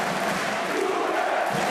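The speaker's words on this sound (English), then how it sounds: "A huge applause for him" A dense, steady roar of crowd cheering and applause fills an arena at a EURO 2012 handball match between Iceland and Slovenia, honoring Slovenian player Jure Dolenec, with no distinct voices standing out.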